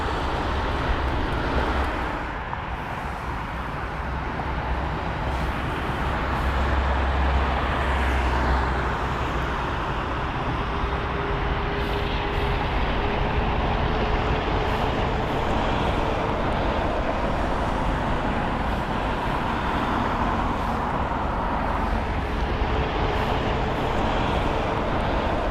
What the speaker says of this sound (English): A seemingly routine landing for a Singapore Airlines A380 takes a dramatic turn with a tire burst upon